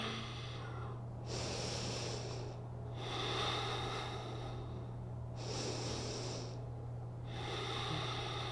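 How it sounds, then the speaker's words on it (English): Slow, deep breaths during a yoga balance stretch, four long airy inhales and exhales in a steady rhythm, close and soft, with a low steady hum beneath and no talking. "Let's take 3 deep breaths here"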